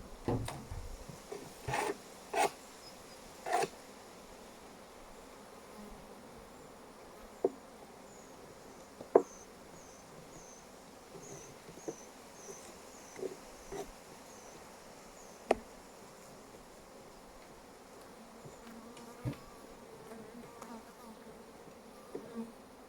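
Honeybees buzz around an opened beehive during a honey harvest, a soft steady hum beneath scattered sharp knocks and clunks of frames and wooden parts being handled.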